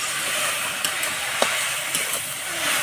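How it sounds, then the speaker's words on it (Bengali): Jute leaf greens with chilies and salt being stirred in a pan, a constant close sizzle with a few light scrapes and taps of the spatula scattered through it, no voices. "লবণ দিয়ে ভালো করে নেড়ে চেড়ে নেব"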